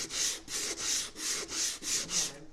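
80 grit sandpaper rubbing over a wooden bass guitar body in six even back-and-forth strokes, close and rhythmic, with no talk.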